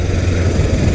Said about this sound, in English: Shift into the next gear. Let out the clutch and mix it with some throttle